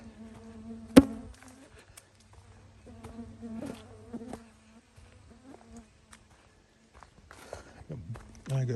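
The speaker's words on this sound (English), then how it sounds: "I got mosquitoes buzzing all around my ears." Mosquitoes whine close around the ears on a wooded hiking trail at a nature preserve. Faint, intermittent buzzing under a man's speech and occasional footsteps.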